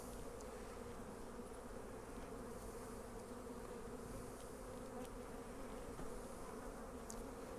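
Honey bees buzz around two open hives on a pallet, forming a dense, continuous low drone with occasional individual bees passing close by.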